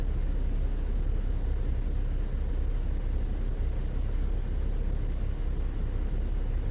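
A car engine with a misfire idles steadily after being shifted into gear, a low continuous rumble holding even and unbroken with no talk over it.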